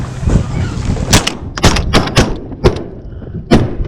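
Shotguns fire at a flying duck on a Chesapeake Bay hunt, several sharp, loud booming shots in quick irregular succession over about four seconds, close by with a faint background murmur.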